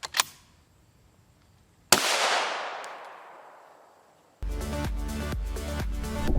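Rifle rounds, including M80A1, strike a Hesco 4800 NIJ Level IV armor plate: a sharp shot at the start, then a huge blast with a long decaying roar, followed by loud rapid rattling impacts near the end.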